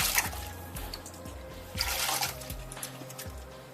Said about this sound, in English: I'm going to put that directly into the water, diluting it, mixing it really well